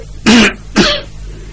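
Two sharp, loud coughs in quick succession, close by, with a short gap between them.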